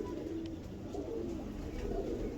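A pigeon coos softly in low, repeated throaty notes over a steady background hum.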